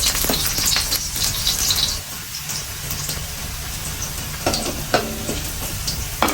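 Garlic sautéing in a pan for chicken adobo gives off a steady, close sizzle and crackle, with scattered stirring scrapes over a continuous frying hiss.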